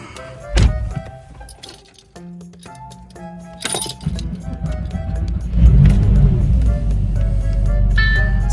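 A Porsche 996 Carrera cold-starts on an 8°C day with a slightly weak battery: keys clink and a thunk sound first, then the engine cranks, catches and settles into a steady idle.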